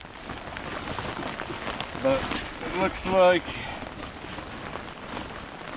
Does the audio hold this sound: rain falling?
yes